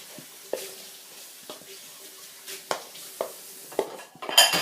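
Goodey ball mixture is stirred in a pot with a spoon, giving soft, irregular clinks and scrapes against the metal at a close, quiet level, with a louder clatter at the end.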